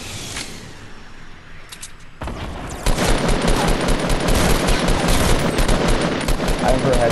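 Fortnite gunfire at a base, starting with a few faint distant shots, then breaking into loud, sustained automatic fire that runs continuously to the end.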